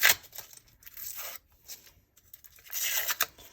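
A plastic package holding a Lush Grass washi tape set is ripped open by hand, with a few close, crisp tearing bursts separated by brief pauses and no talk.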